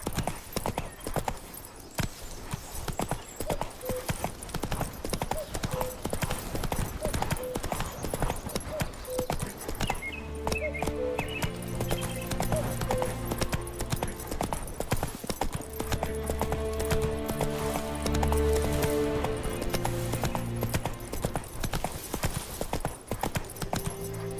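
Roach, a horse in the video game The Witcher 3: Wild Hunt, gallops with loud, rapid, steady clip-clopping hooves, first over a dense noisy bed and then over sustained musical tones.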